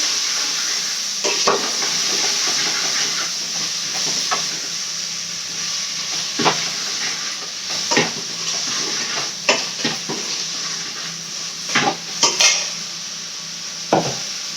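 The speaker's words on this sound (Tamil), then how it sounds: "இப்போ வந்து இந்த காய் போட்டுக்கலாம். ஏன்னா முள்ளங்கி நல்லா வதங்கணும்." Radish and okra sauté in a pan while a prawn curry is being made, giving a steady sizzle and hiss. Spoon scrapes and stirs break in at irregular intervals, close and clear, with no talk.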